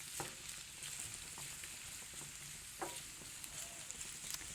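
Onions frying in oil in a pan, a soft, steady sizzle with occasional light crackles and faint utensil clicks, moderately close and fairly quiet.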